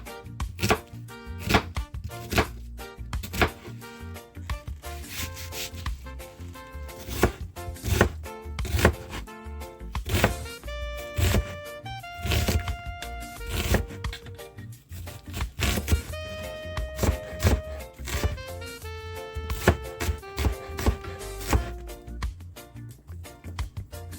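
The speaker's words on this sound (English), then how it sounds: "So I'm cutting a whole onion." A knife chops through a whole onion on a cutting board, fast rhythmic sharp taps repeating steadily and close, with background music playing.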